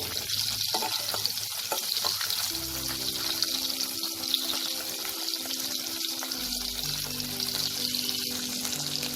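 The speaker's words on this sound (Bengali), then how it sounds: "দিয়ে এবার এই ডিমগুলোকে আমি একটু ভেজে নেব" Boiled eggs fry lightly in oil, turned side to side, giving a soft, continuous sizzle close by with faint clinks and stirring scrapes; no one speaks.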